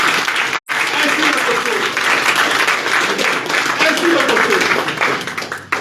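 An audience at a professional online training event in Pakistan breaks into loud, sustained applause, dense clapping that runs nearly the whole time after a brief gap near the start and tails off at the end.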